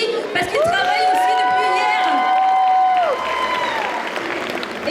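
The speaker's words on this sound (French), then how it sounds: "on les applaudit parce qu'ils travaillent aussi" A convention crowd at a cosplay contest in Rennes applauds in a steady wash of clapping, mixed with cheers and whistles. The applause fades slightly toward the end, and voices call out over it.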